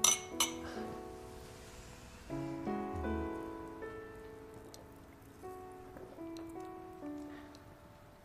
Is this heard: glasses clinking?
yes